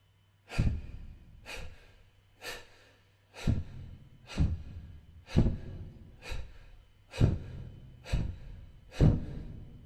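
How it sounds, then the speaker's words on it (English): A person takes ten deep breaths, each with a sharp, forceful exhale, in an even, unhurried rhythm. The breaths are close and clear against near silence. "deep breath in only halfway out and deflate 10 times"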